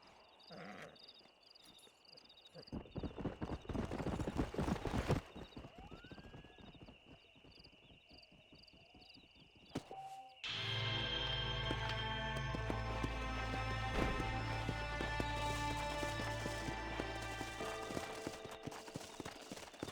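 In the Red Dead Redemption video game, a stallion's hooves clip-clop in a steady rhythm, with a neigh and shifting game ambience, then a louder, denser layer of hoofbeats and background sound in the second half.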